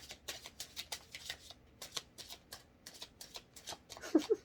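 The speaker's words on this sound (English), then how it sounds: "Final shuffle." A tarot card deck is shuffled in a series of quick, crisp riffles and flicks with short pauses between them, close and clear, ending with a soft low thump near the end.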